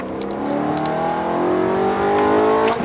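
A BMW E92 M3 exhaust revs hard, its pitch climbing steadily in a loud, rasping whine that builds for a few seconds before cutting off.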